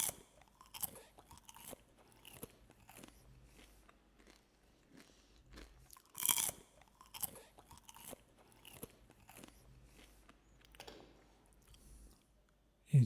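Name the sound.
crunchy caramel treat being bitten and chewed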